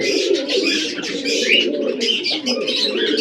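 Pigeons in a loft coo and murmur continuously at close range, several birds overlapping in soft rolling calls with light chirps and wing rustle, no talking.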